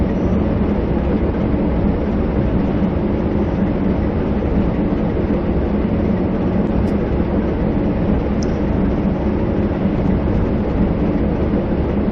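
A train engine drones steadily in Train Sim Classic on a St Pancras to Derby run, a loud, continuous rumble with rail noise that holds level throughout, with no talk over it.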